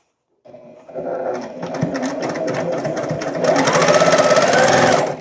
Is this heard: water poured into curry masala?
no